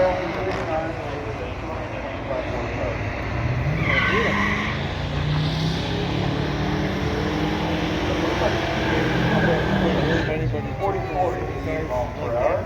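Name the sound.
1965 Ford Galaxie and 1964 Studebaker drag racing launch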